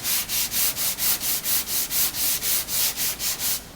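3M finishing glaze filler being hand-sanded on an auto body panel, a steady back-and-forth rasping in about fifteen even strokes, close and loud, with no talking.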